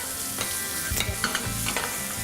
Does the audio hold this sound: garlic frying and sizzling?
yes